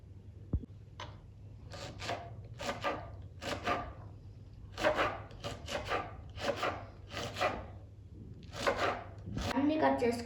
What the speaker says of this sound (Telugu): ఇప్పుడు పచ్చిమిర్చి కట్ చేసుకుందాం.